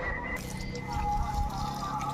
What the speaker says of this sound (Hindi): तो अब इसमें पानी दे देते हैं।